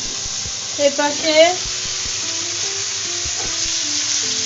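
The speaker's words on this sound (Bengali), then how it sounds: "মাছ ভাজি হচ্ছে" Fish frying in a pan gives a steady broadband sizzle throughout, with someone speaking briefly near the start over it.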